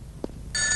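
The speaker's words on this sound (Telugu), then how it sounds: "ఆ ఫోన్ నాది, వచ్చే ఫోన్ నాకు వస్తుంది" A telephone rings in an indoor scene from a Telugu comedy film, a short ring tone starting partway through after a brief thump, loud and steady with no talking over it.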